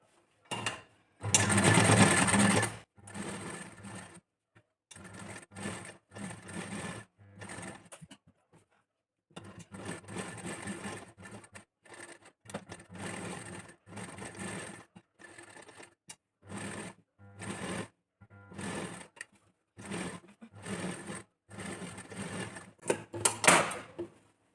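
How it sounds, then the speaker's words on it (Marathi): A sewing machine stitches a blouse in repeated bursts of rapid mechanical chatter separated by short pauses, with a louder, denser run near the start. "आणि स्टिच करायला सुरुवात करायची आहे."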